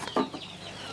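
Chickens at a small home farm that also keeps fish give a single short cluck amid low farmyard background, fairly faint and brief, with no talk.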